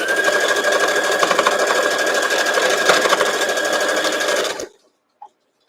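Sewing machine stitching quilt seams, a fast steady mechanical whirring chatter held for several seconds, close and loud, then stopping abruptly, followed by a single small click.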